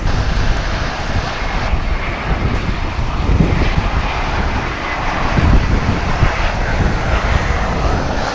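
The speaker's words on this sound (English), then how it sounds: "American Flight 2496 about to take to the skies to Portland, Oregon." American Airlines flight 2496 takes off from Dallas Fort Worth airport, its jet engines giving a broad, sustained roar with some wind buffeting. The sound holds steady and loud throughout, with no speech.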